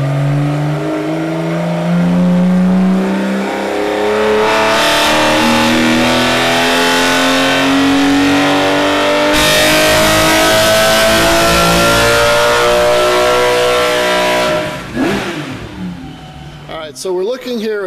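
A Porsche engine on a dyno revs in one long pull, the tone climbing steadily and loudly for many seconds before dropping away, close and dominant with no clear talk over it.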